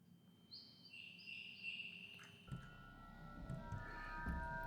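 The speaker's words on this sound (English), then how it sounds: "Oh, hello there, bird. Oh, hello there, more birds." Birds chirp and call in the video game An Outcry, a haunted PS1-style demo, with several high tweets and whistles over a low rumbling ambience that grows busier partway through.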